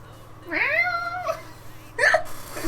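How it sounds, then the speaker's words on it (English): Two clear, close cat meows, the first long and drawn out and the second shorter, sound over a quiet background hum. "That goddamn cat meowing all the time."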